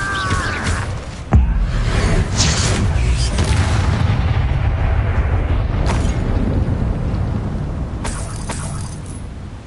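Incendio fire spell cast amid combat in Hogwarts Legacy: a sharp booming impact followed by a sustained roaring, crackling rush of flame, with further loud bursts and whooshes later, close and loud.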